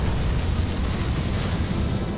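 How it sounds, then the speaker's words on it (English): Cartoon fire bursting out at a backyard barbecue, a loud, steady roaring whoosh with dense low rumble that holds at the same level throughout, with no talk over it. "It's a real fire this time!"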